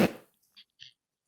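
A person imitates a fart with their mouth on a podcast, producing a short, blurting burst followed by two faint, brief squeaks, close to the microphone.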